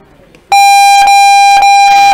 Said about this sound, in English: PPOD will hit the buzzer.